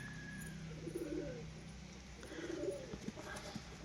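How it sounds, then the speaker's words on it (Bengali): A pair of teddy pigeons gives soft low coos, two rolling bursts over a quiet background, close but faint. "দেখে নিন পায়রা জোড়া, কোয়ালিটি আলাদা"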